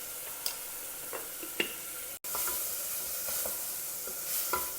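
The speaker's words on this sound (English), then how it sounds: "Fry the masalas well." Turmeric, Kashmiri chilli powder and salt frying in oil make a steady close sizzle with light scraping stirs and a few clicks, briefly cut by a short dropout midway, with no talk.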